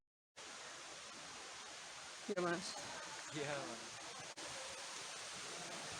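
A river flows steadily near Curug Ciampea waterfall in Bogor, somewhat low after several dry days, making a constant broadband rush of water throughout, with someone briefly speaking over it midway.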